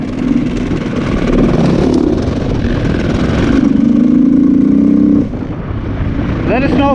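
Motorcycles roar past on the road while another bike is being followed, a loud, continuous engine drone that rises and shifts pitch as they go by, mixed with wind noise and brief voices.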